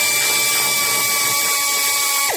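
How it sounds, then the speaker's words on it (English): A pneumatic air tool spinning a socket while removing the front evaporator from a Toyota Innova, a loud continuous high whine with a steady tone that drops off at the very end, alone without speech. "let's shift to air tools"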